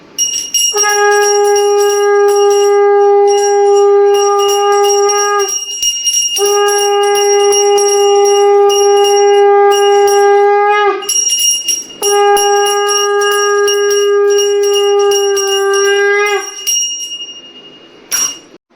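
A small bell rung during Janmashtami worship at home: bright, sustained metallic ringing in three long stretches separated by brief pauses, loud and close, with no talk over it.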